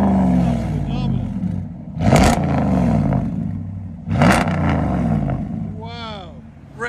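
A 2017 Ram 1500 Outdoorsman with the 5.7L HEMI V8 and straight-pipe dual exhaust with 5-inch tips rumbles loudly at a deep idle, then is revved hard twice in sharp bursts that settle back to the throaty idle.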